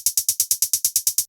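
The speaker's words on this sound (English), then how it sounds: "then we have this 808 hi-hat." Roland 808-style hi-hat in breakbeat techno, a steady run of about eleven sharp, hissy closed-hat hits in a straight even rhythm, loud and dry with no talking.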